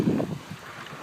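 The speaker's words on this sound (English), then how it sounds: "Very windy." Strong wind after a blizzard buffets the microphone outdoors in snowy conditions, with low rumbling gusts that start loud and ease to a softer steady rush, with no talk.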